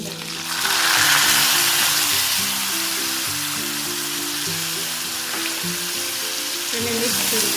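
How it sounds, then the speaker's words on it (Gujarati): Onions with cumin fry steadily in hot oil, a loud continuous sizzle with a low rumble and faint tonal hum underneath, no speech. "કાંદા બ્રાઉન થાય ત્યાં સુધી સાતળવા."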